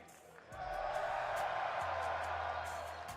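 A large crowd roars and cheers steadily at a sold-out esports watch party for a major finals event, a broad sustained wall of noise that swells up and holds loud.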